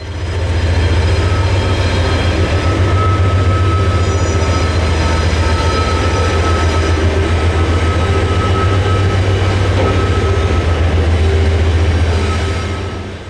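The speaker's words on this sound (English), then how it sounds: "15 minutes later and the relief power had tacked onto 950, easily yanking the train uphill." Relief locomotives coupled to a freight train haul it uphill on the Old Fort Loops, a steady deep diesel rumble with rail noise, loud and continuous throughout.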